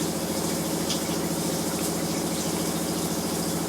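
Inside a 2025 Sol Horizon camper, a water pump drives the hot water tap, giving a steady, close, unbroken hum and rush of flowing water with no speech.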